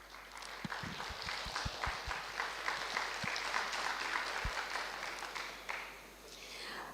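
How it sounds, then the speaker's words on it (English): Quiet applause from a small audience for a discussion panel, a soft wash of clapping at a distance with a few sharp bumps and knocks early on, tapering off near the end. "So our wonderful panel, please give them a clap."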